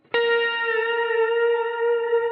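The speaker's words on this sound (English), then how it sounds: "So when you play it, there's lots of delay, lots of reverb." A single sustained note from a PRS electric guitar through a Kemper warm pad patch with heavy delay and reverb, struck once and ringing on smoothly with a lush, even tail.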